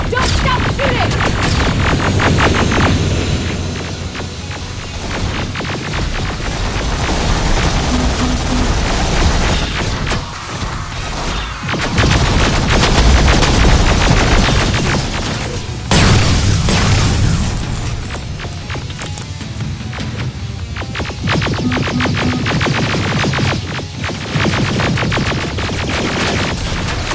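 Rapid gunfire and heavy booming explosions from the Terminator: Resistance video game, a dense, loud, continuous battle din with shots and blasts layered throughout.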